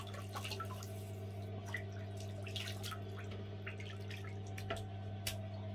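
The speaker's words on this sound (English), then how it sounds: "Soak the brush a bit while I wet the face" Gentle splashes and drips of water sound while a face is wet before shaving, soft and close over a steady low background hum.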